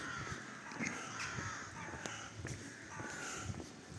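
Crows caw repeatedly in a resort park in Truskavets in winter, with several harsh calls scattered over steady outdoor background noise and faint footsteps.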